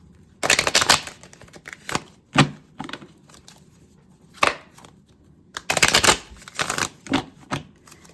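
A tarot card deck is shuffled in bursts of crisp riffling and flicking, several quick clusters separated by short pauses, close and fairly loud with no talking.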